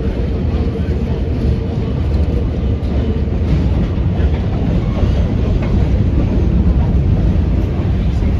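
Inside an R32 subway car on the Q line, a loud, steady low rumble of wheels and motors runs throughout with faint rhythmic clatter, heard from onboard.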